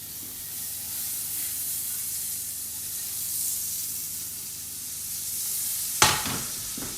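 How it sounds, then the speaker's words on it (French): Butter melting in a frying pan on a lowered hob, a steady soft sizzle and hiss running throughout, with a sharper spitting crackle near the end. "Dans la même poêle, je mets du beurre."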